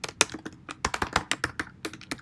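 Fingers type on a computer keyboard in quick, irregular bursts of crisp, close clicks, with short pauses between runs of keystrokes.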